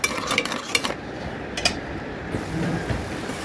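Spice masala being stirred and fried in a pan: metal utensil clinks and scrapes in a quick cluster early on, then a low steady sizzle, close by with no voices.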